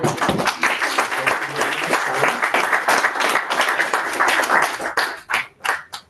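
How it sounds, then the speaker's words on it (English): A small club meeting audience claps in a room, a busy patter of individual hands close by that stays steady before breaking into a few separate final claps as it dies away. "A round of applause once more."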